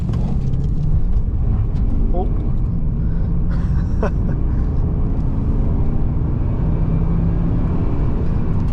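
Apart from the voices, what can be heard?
Holden VY SS with LS1 V8 accelerating 0 to 100 km/h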